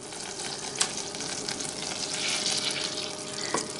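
Butter melting in a pan for cauliflower cheese sizzles with a steady broadband hiss throughout, with a couple of faint clinks, and no one speaks.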